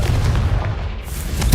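Confringo blast spell going off in the Harry Potter-style video game SpiritVale, a loud low booming burst with rumbling follow-through and a sharp thump at the very end, close and heavy.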